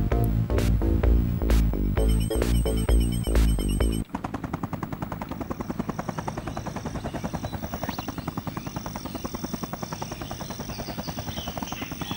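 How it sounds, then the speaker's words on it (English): Helicopter rotor chop from the Sega CD Jurassic Park game, a steady rapid pulsing thrum that follows a loud burst of rhythmic game sound effects. "the chopper noise does go away"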